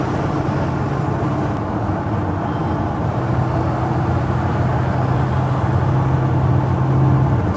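A 1939 Ford Deluxe Coupe street rod accelerates with a loud, steady engine roar heard from inside, building slightly toward the end, with no talking.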